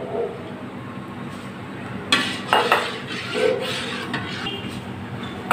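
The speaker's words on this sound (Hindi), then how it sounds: "ये देखिए, इसको ऐसे हिलाते रहना है ताकि ये अपना नीचे ना चैटे।" Soy milk being stirred in a metal pot while making tofu paneer, a spoon scraping and clinking against the pot bottom in irregular strokes, close and moderately loud.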